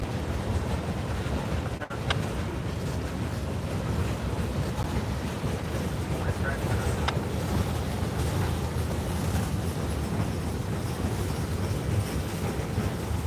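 A train moves out of the DeButts rail yard, heard from an overlook as a steady, distant rumble and rolling roar that continues evenly with a brief sharp clank near the start.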